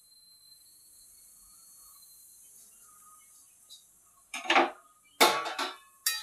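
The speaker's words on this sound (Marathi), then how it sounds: "रवा आपल्याला पूर्ण मंद आचेवर भाजायचा आहे" Semolina roasting in hot ghee in a pan over a very low flame. Near-silence at first, then a few brief, loud scraping and clattering stir strokes of a utensil against the pan toward the end.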